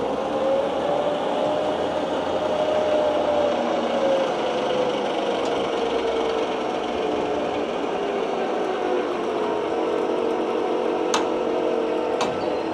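A sling wrecker tow truck lifts a towed vehicle, with a loud, steady engine drone and a whining tone that slowly rises and falls. A couple of sharp metallic clicks land near the end.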